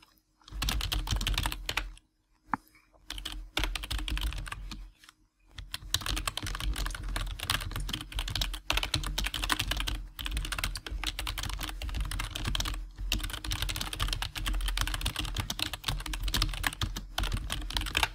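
Rapid clacking of a computer keyboard during an online board-game tournament match, steady bursts of keystrokes close to the microphone, broken by a few short pauses, over a low constant hum.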